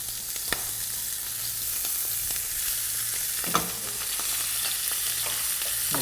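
Shrimp with tails left on sizzling in a hot frying pan as they go in, a steady close frying hiss with faint scattered pops and clicks, no talking.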